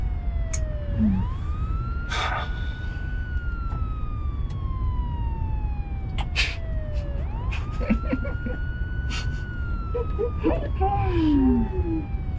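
A police car siren wails in long rising and falling sweeps, loud and close, with people talking and background noise throughout.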